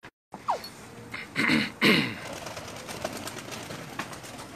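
Pigeons being released onto a rooftop give a few short bursts of wing flapping and faint cooing, fairly close, with scattered small knocks and rustles between.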